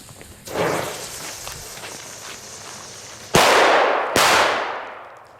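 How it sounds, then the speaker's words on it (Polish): A C4 firecracker set off by a flare goes off in two sharp, loud blasts close together near the end, after a stretch of quieter rustling and footsteps outdoors. "odpalamy w taki sposób flarka, żeby odpaliła kolejną petardkę"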